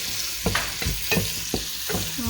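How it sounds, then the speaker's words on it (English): Onion or shallot frying in melted butter for seafood chowder, a steady sizzle with about five rhythmic scraping stirs of a spoon against the pan, close and without voices. "After they melt like this, I put the onion."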